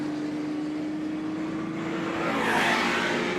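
A Lola T70 race car on a Group 5 high-speed demonstration at the 74th Members' Meeting gives a steady, distant engine drone with a low hum, swelling louder near the end as it passes closer.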